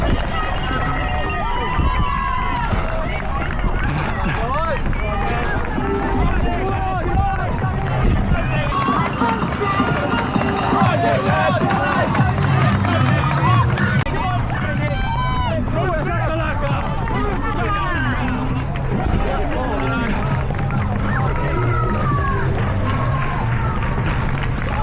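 A roadside crowd cheers and claps along a 5k race course as a runner passes, with loud continuous babble, shouts and applause and a person talking over the noise throughout.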